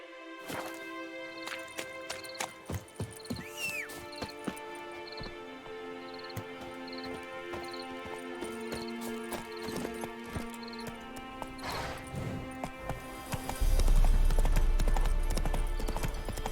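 Horse hooves in The Witcher 3 clip-clop in a steady rhythm over a game soundtrack, ending in a louder rush of noise.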